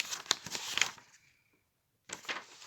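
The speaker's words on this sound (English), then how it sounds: "excuse the shuffling sound" Close rustling shuffle arrives in a few quick bursts, stops briefly into near silence, then resumes.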